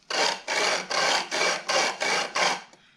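Seven even back-and-forth sanding strokes rasp over a wooden guitar top brace in a steady rhythm. They are close and fairly loud, each stroke a short gritty burst, and the sanding stops near the end.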